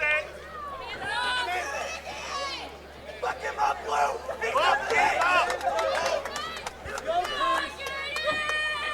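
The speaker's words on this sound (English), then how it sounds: "Wildest crowd I've heard in a while." A wild crowd roars and cheers at a live fight event with jabs and right hands being thrown. The noise swells and surges throughout while commentators talk over it.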